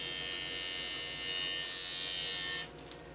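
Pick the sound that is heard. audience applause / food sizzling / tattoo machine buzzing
tattoo machine buzzing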